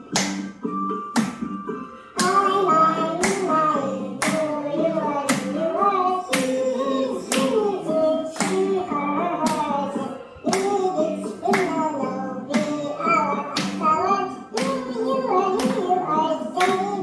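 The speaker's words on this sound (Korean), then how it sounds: "박수 치면서." A class of children claps in a steady rhythm while singing together in a classroom, sharp evenly spaced claps under the sung melody.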